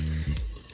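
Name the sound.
water running from a tap with low pressure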